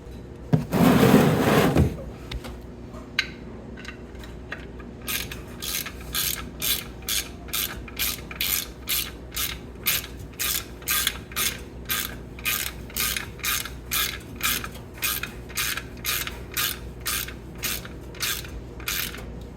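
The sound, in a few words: socket ratchet tightening ATV oil drain plug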